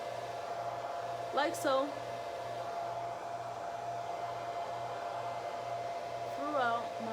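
A hair dryer runs steadily on its low, cool setting throughout, a constant whirring hum with a faint rhythmic pulse, while a person speaks briefly twice over it.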